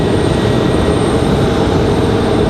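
Steady, loud broadband roar of a Delta Airbus A320-200 jet departing Raleigh-Durham International Airport toward Atlanta, a continuous engine rumble with no break or voices.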